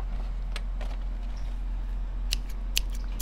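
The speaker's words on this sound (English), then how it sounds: "Scissors." A few sharp snipping sounds, scattered and fairly close, over a steady low hum.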